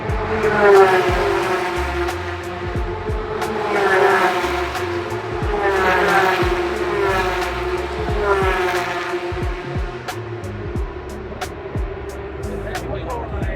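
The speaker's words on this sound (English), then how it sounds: "For that loud engine noise" Powerful supercar engines rev loudly in repeated rising surges at a supercar show during F1 Miami week, with sharp pops and a steady mechanical roar close by.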